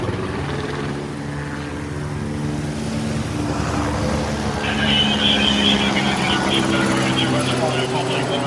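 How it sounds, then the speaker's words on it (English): A police helicopter in Los Angeles flies off, its rotor drone steady and fairly loud through the scene, with a brighter engine whine in the second half. People talk over it. "Helicopter's leaving."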